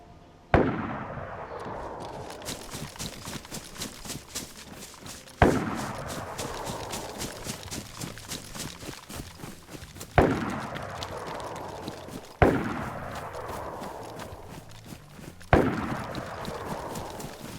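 Five distant gunshots in the video game DayZ, each a sharp crack followed by a long rolling echo that fades slowly. They are spaced a few seconds apart, faint overall, with no voices.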